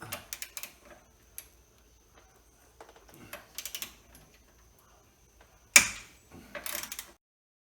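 Sway bar link bolts on a BMW are loosened with hand tools: quiet ratcheting clicks and metallic taps in short, separate bursts, with one sharper clank near the end and near-silence between them.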